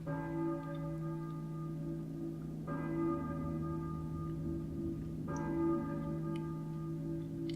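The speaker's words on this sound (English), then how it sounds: "I hear a church bell, maybe? Who is ringing the bell?" A church bell tolls twice in a Silent Hill game, each strike sharp and ringing with a long, sustained hum of overtones that fades slowly over a steady low drone.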